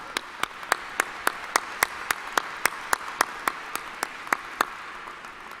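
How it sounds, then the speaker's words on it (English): Clapping at a college graduation ceremony in an arena rings out as a steady, evenly spaced beat of sharp claps over a faint room murmur, with no speech. "Another round of applause for them."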